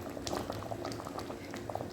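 A thick dalcha stew with green banana bubbles in a pot, with soft irregular blips and pops over a low, steady simmer.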